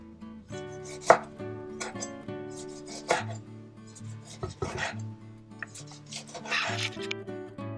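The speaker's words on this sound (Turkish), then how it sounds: "Üzerlerine koymak için büyük domateslerden birer dilim kesiyorum." A knife cuts slices from large tomatoes in a home kitchen, making soft, uneven cutting and board contacts under steady background music.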